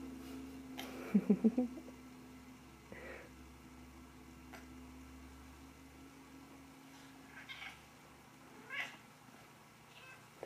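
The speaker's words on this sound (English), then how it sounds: "There's another kitty." A cat lets out a quick run of meows near the start, followed by fainter, softer mews scattered across a quiet room.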